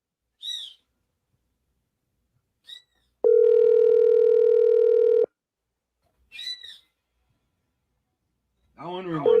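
A steady electronic telephone ring tone sounds for about two seconds, set between short bursts of voices, with another ring beginning at the end.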